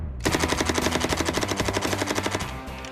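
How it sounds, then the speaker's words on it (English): A Hollywood-style Uzi submachine gun empties a 100-round load in one loud, continuous burst of rapid evenly spaced shots, close up and sustained for nearly three seconds with no pauses. "100 bullets in the Uzi"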